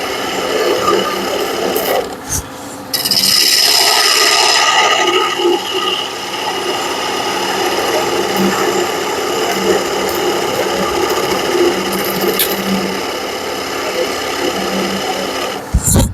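A metal lathe turns a taper with a steady rest fitted, giving a steady whirring machine hum with a brief louder surge early on and small scraping bursts along the way.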